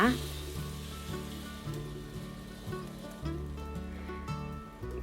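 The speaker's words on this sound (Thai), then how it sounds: "เสร็จแล้วนำไข่ที่เราตีไว้ลงไปเจียวค่ะ" Steady crackling sizzle of beaten egg frying in a thin layer in hot oil in a pan, continuous and close, over a low rhythmic hum in the background.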